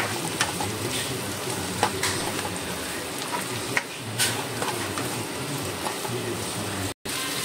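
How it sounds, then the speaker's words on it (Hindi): Chopped capsicum frying over high heat for a chicken chilli, a steady broadband sizzle with occasional faint stirring clicks, close and continuous with no talk. "चॉप केलेलो कॅप्सिकम आनी तेका मातशें 1-2 सेकंड एश कोन्न उज्याचेर फ्राय कोता"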